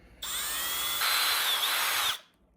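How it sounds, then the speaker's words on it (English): A power drill whines at high speed for about two seconds, pitch shifting slightly as it bores a pilot hole in a garage fridge's plastic, then stops abruptly. "So just let the drill bit do its job."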